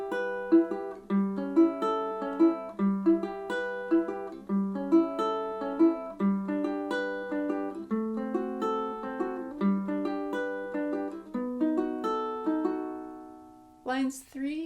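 Ukulele playing the chorus of a song at 140 bpm, with clear plucked and strummed chords in a steady, lilting rhythm, close and alone, ending with a brief accented strum.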